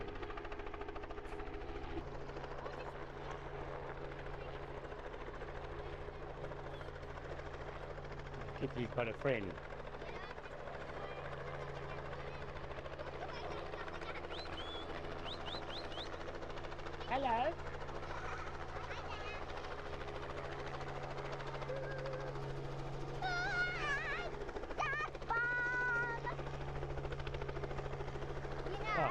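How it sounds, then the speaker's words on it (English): A helicopter flies overhead at a rhino ear-notching operation, its steady rotor and engine drone running throughout the clip beneath casual conversation and occasional nearby voices. "peace and quiet as the chopper goes off"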